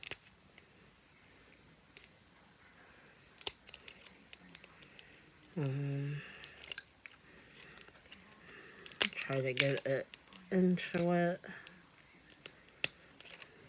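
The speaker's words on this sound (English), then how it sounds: "I'm glad I got my scissors here" Scissors snip open the packaging of a Real Littles toy, giving a few short, crisp cuts and plastic crinkles close by while someone talks over them.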